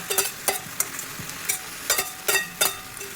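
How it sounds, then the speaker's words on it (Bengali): Pumpkin curry with shrimp and fish heads being sautéed in a pan, with a spatula scraping and stirring in a steady rhythm of close, crisp strokes over a soft, continuous sizzle. "কষানো হচ্ছে।"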